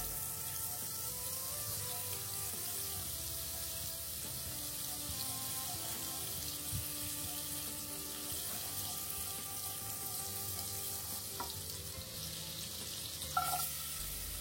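Soft sizzling of melting margarine in a pan, a steady low hiss that goes on throughout, with a few light clinks and scrapes of a utensil.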